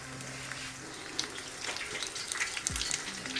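Cabbage chebureki frying in a skillet, giving a steady crackling sizzle with scattered sharper pops, close by and with no one talking.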